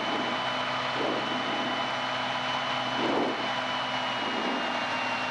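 A light training airplane's engine drones steadily and close as it flies low over the runway, with a constant buzzing tone and slight pulsing swells throughout.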